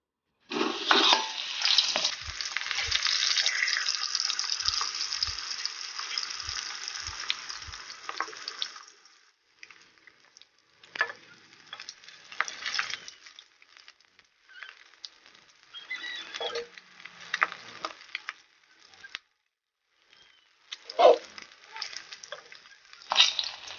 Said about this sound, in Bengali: আমার তেলটা গরম হয়ে গিয়েছে, ভেজে নেব মাছের মাথাগুলো।